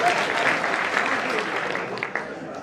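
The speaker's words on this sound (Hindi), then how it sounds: "ताली बजाओ अगर समझ में आ रहा है।" An audience claps steadily at a Hindi comic poetry show. The dense, even applause lasts under three seconds, with voices mixed faintly into it.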